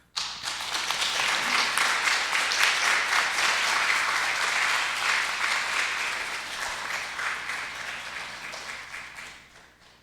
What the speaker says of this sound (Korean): 여러분 한번 뜨거운 박수로 목사님 맞이하도록 하겠습니다